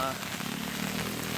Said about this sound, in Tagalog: Hindi ko naman masasabi na malakas yung ulan